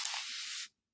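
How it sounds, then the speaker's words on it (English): A pump-trigger spray bottle of cleaning solution releases one continuous, close hissing mist lasting just over half a second, then cuts off abruptly into silence. "So one pull of the trigger gives you about a second or a second and a half of spray."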